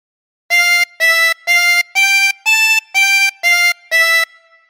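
Tremolo harmonica playing a phrase of All Through the Night, eight sustained, wavering reed notes of even length with short gaps between them, loud and close, the last note fading out with no voice over it.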